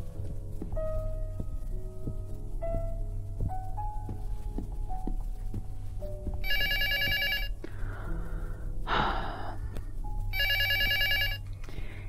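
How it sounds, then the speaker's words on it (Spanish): A telephone rings in the horror game Luto: two loud, bright electronic ring bursts, separated by a few seconds, over a low steady hum, with scattered soft tonal notes and a brief noisy scrape between them. "yo abro la puerta del garaje, bueno, de la intro, y ya te están llamando por teléfono"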